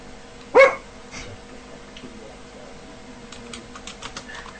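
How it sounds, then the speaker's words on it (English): A puppy gives one sharp, loud bark near the start, followed by a few faint yips and soft background noise in a quiet room. "Puppy dog,"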